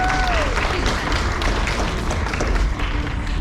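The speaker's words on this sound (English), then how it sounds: "Let's give him a big round of applause." A crowd applauds at the Rescue Tails show at SeaWorld Orlando in 2024. The clapping is steady and continuous, with a brief whistle-like tone near the start and some crowd noise mixed in.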